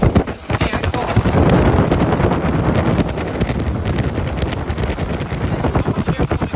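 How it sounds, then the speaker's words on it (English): A Soler & Palau HCFB-4-400-H industrial exhaust fan blasts air straight at the microphone, a loud, steady buffeting roar of wind with gusty pulses, and a voice speaks faintly underneath. "There's so much air coming out of this."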